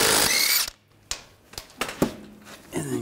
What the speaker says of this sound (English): 17 millimeter socket, we're going to take these lug bolts off.